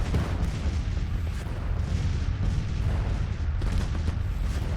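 Battle gunfire in the Civil War strategy game Grand Tactician: The Civil War, a continuous rumble of musket volleys and booming shots crackling through the whole stretch with no talk.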